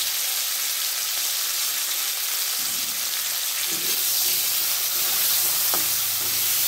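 Bata fish curry with potatoes, salt and turmeric fries in a pan with a steady, loud hiss and sizzle, with a few soft stirring knocks and scrapes up close.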